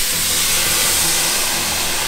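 Liquid hits a hot pan while cooking Mexican rice, giving a loud, steady steaming hiss with a sizzling roar that holds for about two seconds, no voices over it.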